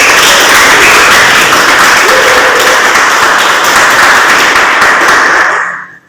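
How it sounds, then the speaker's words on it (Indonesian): Audience applause for a guest speaker being welcomed at a student seminar, a dense, loud wash of clapping that holds steady for several seconds before fading out at the end. "Kita berikan tepuk tangan."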